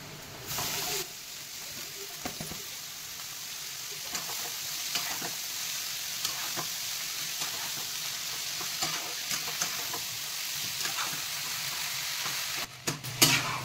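Banana flower sizzles in hot oil after onions have browned, a dense continuous frying hiss with scraping stir strokes close by, loud and steady throughout with a brief louder clatter at the end.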